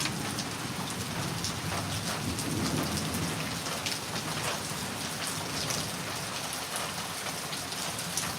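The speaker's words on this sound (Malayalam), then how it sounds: "ഇപ്പം നല്ല മഴ." Heavy rain falling in Palakkad after a spell of hot days, a dense, even roar of drops hitting surfaces, loud and steady throughout, with no voices.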